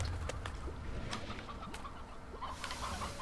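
Soft video game chicken clucks and coos from Slime Rancher scattered over a steady background hum, with no talking, somewhat distant and low in level.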